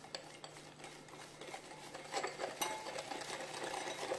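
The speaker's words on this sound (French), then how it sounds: "On mélange l'ensemble." Egg yolk, sugar and flour are mixed in a bowl, giving a faint, steady clatter of a whisk or spoon scraping and tapping the bowl in rapid continuous strokes, with no talk.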